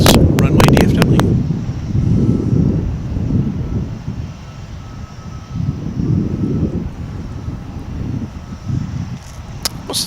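Airbus A300 cargo jet at DFW Airport, a low engine rumble that rises and falls with wind buffeting the microphone, heard outdoors over several seconds.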